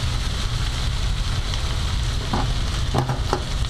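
Potato sizzles and fries in a hot pan, a dense steady crackle of spitting oil with a few sharper pops toward the end, close and fairly loud.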